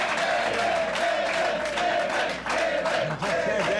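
A dense crowd cheers and yells loudly and continuously, a roaring wall of voices with whoops and shouts rising and dipping slightly throughout.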